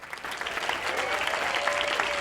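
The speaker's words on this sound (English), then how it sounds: "The applause has to cover the chair break" Steady audience applause for a director and an executive producer walking on stage at a film interview event, loud and continuous with dense clapping throughout.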